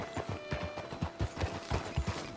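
Horse hooves clip-clopping in the Red Dead Redemption 2 video game, a steady close rhythm of hollow thuds at a walking pace, loud and clear with no voices over it.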